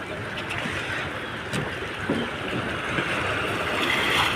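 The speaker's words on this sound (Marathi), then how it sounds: "जंजिरा किल्ल्यात जाण्यासाठी ही बोट उपलब्ध आहे" A boat on the water near Rajapur, used for the crossing to Janjira fort, gives a steady engine and water rumble mixed with wind buffeting, close and continuous.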